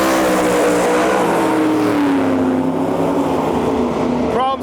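Drag racing cars roaring down the strip at Gainesville Raceway, a loud continuous engine blast heard from trackside that slowly fades as the cars pull away.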